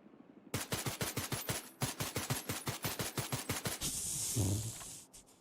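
Rapid automatic gunfire from a shooter video game, a long steady burst of close, loud shots, a brief pause, then another sustained burst ending in a hissing rush, with no talking.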